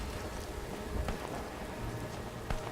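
Rain falling in the video game Rise of the Tomb Raider, a soft, continuous hiss of drops with occasional faint taps, low and steady with no talking.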